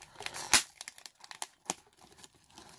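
A Pokemon Lost Thunder booster box is torn open up close: sharp tearing rips and crinkling cardboard and wrapper in irregular bursts, with one loud tear near the start.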